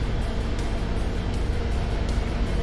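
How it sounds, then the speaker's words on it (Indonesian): A truck passing close by on a road, a loud, steady low engine rumble and tyre roar filling the whole stretch without letting up, with no talk over it. "nah ini ada truk lewat nih, berisik banget nih"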